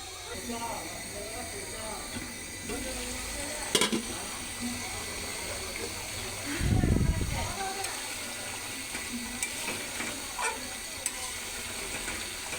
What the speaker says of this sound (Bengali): আমি হালকা একটু পানি দিয়ে নিচ্ছি মাছটা ভালো করে কষানোর জন্যে